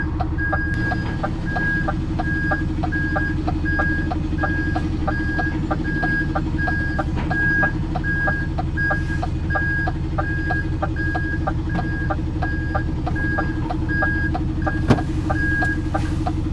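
A UK truck's reversing alarm repeats a steady, evenly spaced beep over a constant low engine rumble, close and continuous throughout.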